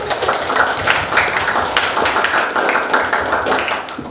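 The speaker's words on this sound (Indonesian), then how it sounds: "beri tepuk tangan" A group of students claps in a classroom after presenting their discussion results. Steady, slightly uneven clapping runs throughout at close range.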